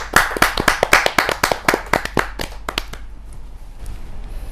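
Audience at a Hindi poets' gathering claps to welcome a poet, a burst of distinct close handclaps that thins out and fades to quiet.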